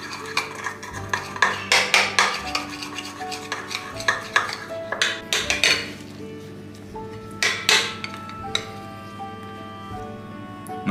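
A spoon mixes pepper spread in a bowl, with rapid scraping and clinking strokes, close and fairly loud, coming in bursts and slowing toward the end.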